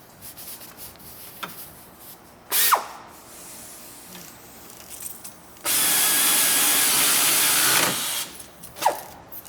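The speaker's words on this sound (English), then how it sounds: "take your impact or your ratchet and go ahead and tighten those up" Suspension bolts of 18mm being tightened with an impact wrench or ratchet: a couple of short mechanical bursts, then a loud sustained two-second whir, with scattered clanks and rubbing between, close and without speech.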